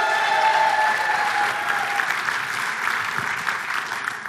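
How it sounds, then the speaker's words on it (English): Church congregation at a Jesus conference gives a minister a clap offering, a loud, full burst of applause with a few shouts over it, easing slightly but carrying on throughout. "come on, give him one more clap offering"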